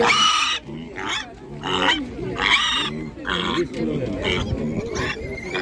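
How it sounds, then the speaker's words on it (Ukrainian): Piglets at a livestock market squeal loudly and repeatedly in shrill overlapping bursts as they stir and jostle, close by and continuous, with the surrounding crowd noise underneath. "Дивіться, який рух, рух зробився з поросятами."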